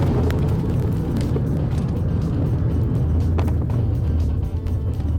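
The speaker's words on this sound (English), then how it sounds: "This has got to be one of the funner cars I've ever been in." A diesel car's engine rumbles steadily from inside the cabin while driving, a loud, continuous low drone with road noise and no talk.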